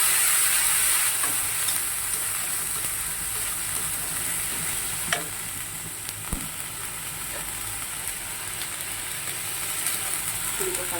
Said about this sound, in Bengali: কালো জিরে ফোড়ন দিলাম, গ্যাসটা আবার একটু কমিয়ে দিচ্ছি।